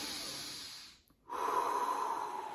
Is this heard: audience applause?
no